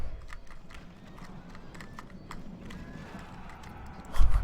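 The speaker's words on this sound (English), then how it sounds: "here come the horse archers" Mounted horse archers gallop across a video game battlefield, a rumbling mass of hoofbeats with faint clatter and battle noise, building to a louder thump near the end.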